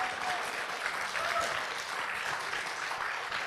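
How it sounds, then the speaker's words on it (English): An audience at a convention artist panel gives a round of applause, an even, continuous spread of clapping heard from a bit of distance, moderately loud and steady throughout with no talk over it. "shall we get a round of applause for these lovely, lovely people?"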